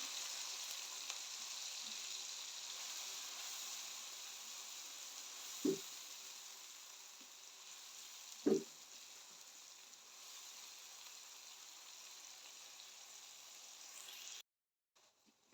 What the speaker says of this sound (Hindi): ऑयल हमारा गर्म हो चुका है, इसमें डालेंगे प्याज चॉप किया हुआ।